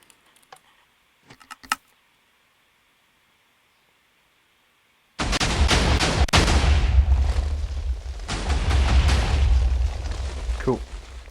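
A Minecraft sand cannon fires after a few faint lever clicks and a short silence, releasing a sudden loud, sustained rumbling blast of explosions that roars on for several seconds before easing off.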